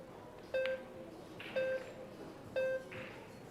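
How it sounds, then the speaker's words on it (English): Shot clock warning beeps at a pool match in Las Vegas, three short electronic tones about a second apart, clear and moderately loud over quiet room ambience. "You can hear the beep."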